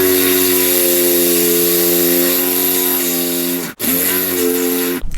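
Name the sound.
DeWalt power drill drilling out screws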